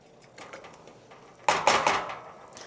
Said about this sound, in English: It's at 360, so I'm gonna drop these in with a slotted spoon